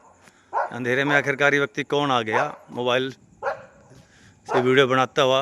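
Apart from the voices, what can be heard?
dogs barking in the dark at night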